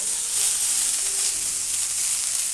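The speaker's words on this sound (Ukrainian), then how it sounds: "Додаємо чесник, додаємо вершкове масло." Garlic and butter sizzle steadily in a hot pan with asparagus, a loud, continuous frying hiss close up with no talking.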